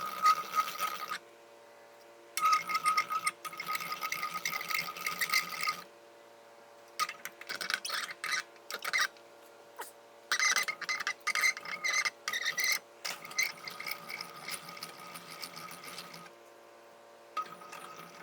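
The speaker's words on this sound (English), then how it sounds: "this little cheapo bead roller is only meant for aluminum, but I've done stainless with it" A cheap hand-cranked bead roller rolls a bead into sheet metal, giving bursts of grinding, rasping metal friction broken by short pauses and clicks, close and moderately quiet.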